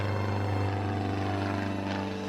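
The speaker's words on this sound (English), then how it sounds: "A plane, a P-38 Lightning, takes off to head for the occupied territories on a reconnaissance mission" A P-38 Lightning twin-engine fighter plane takes off from an airbase, its engines droning in a loud, steady tone with a strong low hum that holds throughout and no voices.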